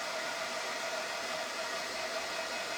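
A hair dryer blows steadily on paint on a craft project, a constant close whooshing roar with a faint motor whine and no talk.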